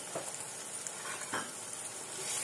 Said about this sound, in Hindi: और अब इस मसाले को अच्छे से पका लेंगे।